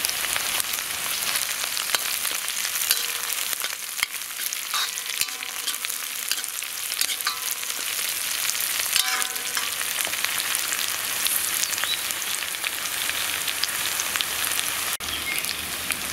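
Long-cut green chillies frying in oil for a Kerala idichakka (tender jackfruit) masala curry, a dense, steady hiss and crackle like rain that carries on throughout, close and even, with no speech.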